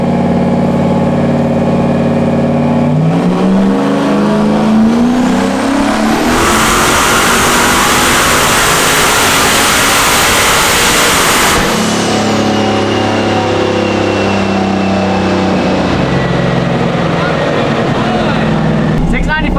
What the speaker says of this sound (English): Revving it out a little bit more.